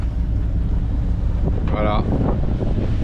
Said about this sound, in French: Il y a 16 nœuds de vent, mais pile poil dans le nez du bateau